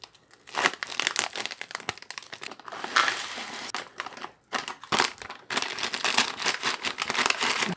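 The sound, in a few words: tearing open a hash brown potatoes pouch at tear notch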